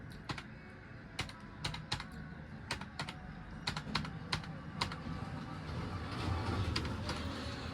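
Someone types an Aadhaar card number on a mobile phone, producing quiet, irregular tapping clicks that arrive in small clusters over a faint background rumble.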